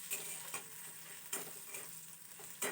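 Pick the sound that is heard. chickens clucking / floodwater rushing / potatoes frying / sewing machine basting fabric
potatoes frying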